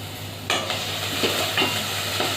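Crushed chili and garlic hit a hot pan for a sprouted moong usal, a sudden sizzle followed by a few scraping stirs over continuous frying hiss, close and clear.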